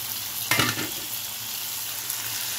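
Sarpunti fish frying in a pan, a steady crackling sizzle throughout with a brief louder burst of spattering near the start, close up and without speech.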